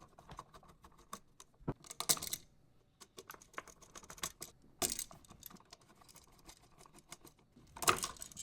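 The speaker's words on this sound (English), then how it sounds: "we'll just take these screws out." Screws are backed out of an electrical wall outlet, with quiet scattered clicks and metallic scrapes and a few sharper bursts of tool contact, close up and without talk.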